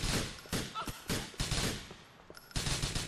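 Gunfire in the video game GTA IV during a police roleplay, several loud close bursts of rapid shots broken by short gaps, ending in a final volley.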